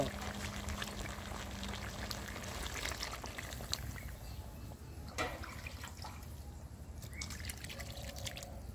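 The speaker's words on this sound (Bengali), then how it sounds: "এখন ঝোলের পানি দিয়ে দিব" Water poured into a simmering fish curry of snakehead fish with dried jujube, giving a steady close bubbling and pouring wash throughout with a few louder splashes and drips, with no talking.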